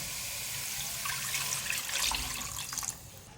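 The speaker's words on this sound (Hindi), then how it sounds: "पानी डालूंगी इसमें।" Water pours steadily into a cooking pot with beef and bone for yakhni, a close, continuous splashing gush that swells slightly and then eases off near the end, with no talk.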